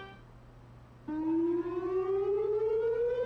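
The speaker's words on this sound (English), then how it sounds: "Bro, this sounds like a fire truck!" An emergency alert civil defense siren kicks in abruptly after a quiet low hum, then wails steadily upward in pitch, loud and continuous like a fire truck siren.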